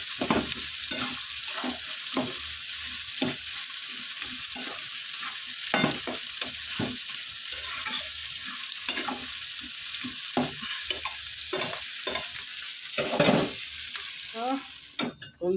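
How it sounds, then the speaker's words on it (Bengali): Garlic, onion, green chilli and tomato frying in a pan, a continuous close sizzle broken by repeated rhythmic scrapes and clatters of a stirring spoon throughout, with no talking. "রসুন, পেঁয়াজ, কাঁচা লঙ্কা, টমেটো লাল করে ভেজে নিচ্ছি"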